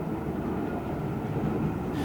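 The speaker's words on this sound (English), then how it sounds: "Next is a Peppercorn Class A1 Pacific, which hurtles towards the magnificent signal gantry." A Peppercorn Class A1 Pacific steam locomotive hurtling past toward a signal gantry, heard as a loud, steady rushing rumble of the train going by, with no voices over it.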